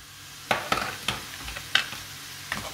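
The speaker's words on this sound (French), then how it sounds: "Et là on fait revenir pendant 10 minutes environ. Voilà, en remuant de temps en temps pour pas que ça attache à feu moyen" Endives sauté in salted butter over medium heat, with a faint sizzle beneath several sharp clacks and scrapes of a utensil stirring against the pan, spaced irregularly and close by.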